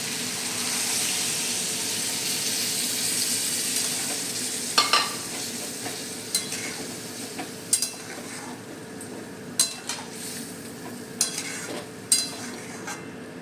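Water added to a frying spice paste for data chorchori, a broad sizzle that settles as a spoon stirs and knocks against the pan in a loose rhythm, close by with no talking.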